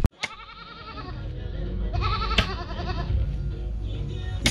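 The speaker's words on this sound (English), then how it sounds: "It's my sheep." Sheep bleat repeatedly at close range, wavering nasal calls rising and falling over a steady outdoor background hum, with a couple of sharp knocks between.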